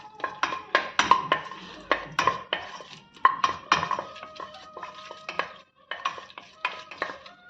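Cinnamon and cloves sauté in oil and ghee in a pan while a metal spoon stirs and taps against the pan in irregular clattering bursts over a soft sizzle.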